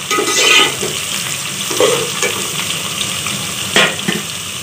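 Masala hits hot mustard oil with fenugreek seeds, cloves and onion, sizzling and frying while a spoon stirs in a few louder scraping bursts, close and steady.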